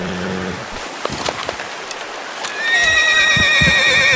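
A horse in the video game Red Dead Redemption 2 gives a loud, close whinny and clops its hooves. Rain patters steadily in the background throughout.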